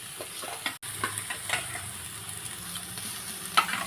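Chicken stir-fried with carrot and green chillies for homestyle chowmein, a steady crackling sizzle with brief scraping stirs, one short sharp clink near the end.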